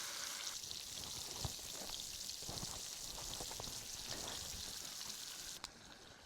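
A pork chop fries in a pan at a campsite, giving a steady faint sizzle and crackle with a few small pops and a brief clatter near the end.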